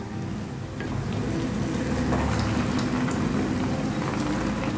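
Semolina snacks fry in hot oil, giving a steady, dense crackling sizzle that holds close and even throughout, with no talking.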